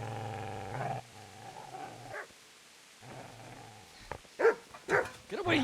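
Dog growling and snarling during an attack in the medieval video game Kingdom Come: Deliverance. A low, steady growl is broken by short gaps, and sharp, loud snarls and barks burst out near the end.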